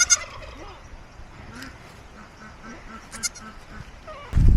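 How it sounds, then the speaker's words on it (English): A goat calls on a farm with short bleats and wavering cries, mixed with other animal calls that sound like fowl. The calls are moderately close and come over a quiet background, with a louder thump at the end. "I hear something going on over here with another goat."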